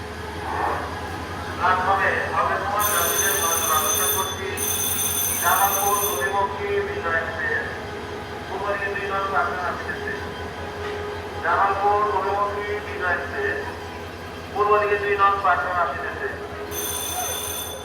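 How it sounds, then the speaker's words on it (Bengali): A train rumbles in at a junction station platform with steady low machinery, and bright electronic chimes ring out in bursts over a loud, continuous run of talking. "আপনারা দেখেন এই তো ট্রেন আসছে"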